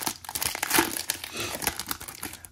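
Trading card blister packs being torn open by hand, giving close, busy plastic crinkling and crackling with sharp tearing bursts that carry on throughout without speech.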